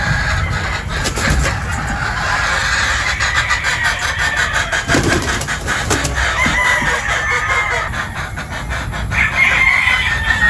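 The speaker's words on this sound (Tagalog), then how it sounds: "So ito po yung mga Boston Roundhead pulit natin." A flock of Boston Roundhead pullets clucks and calls nearby, with a crow rising in the middle, over a continuous rumbling engine-like background drone.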